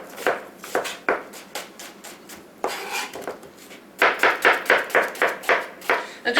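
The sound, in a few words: knife chopping red onion into small dice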